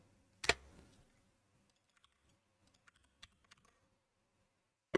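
Close, sparse clicks of computer keyboard keys come in short irregular runs, with one louder knock near the start, during game programming.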